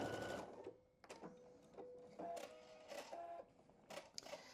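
A sewing machine fitted with a quarter-inch foot runs in several short, quiet bursts of rapid stitching, separated by brief pauses and small clicks of handling between seams.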